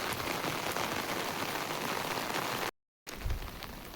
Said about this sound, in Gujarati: મિત્રો આજ વરસાદ પણ બહુ જોરદાર આવ્યો છે.